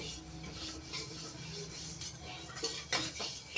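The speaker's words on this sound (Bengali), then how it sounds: "তিল ভাজার সময় অনবরত নাড়াচাড়া করতে হবে, নইলে তলায় ধরে যেতে পারে আর পুড়ে যেতে পারে।" Sesame seeds roast in a pan while a utensil stirs them continuously, making soft scraping and rustling strokes at close range with a few light clinks.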